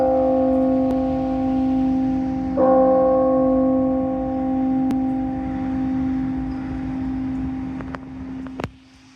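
A mission church bell at Mission Santa Clara, given by King Carlos IV of Spain in 1798, rings for Mass with loud, sustained strokes whose tones hang and overlap, heard outdoors alone.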